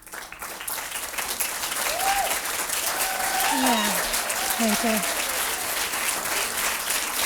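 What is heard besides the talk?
audience applause for supporting foundations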